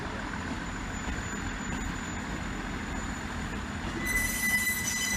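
British Rail Class 158 and 159 diesel trains, one in South Western Railway livery, roll past at Salisbury with steady rumbling wheels and a thin, high squeal that sharpens near the end.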